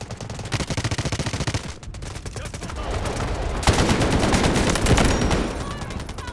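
Rapid automatic gunfire from the Delta Force video game comes in dense bursts, first a fast rattling string, then after a short gap heavier, louder sustained firing with a strong burst near the middle, all close and dominant.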